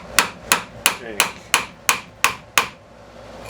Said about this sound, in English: I'll focus the hammer on the lip of this shank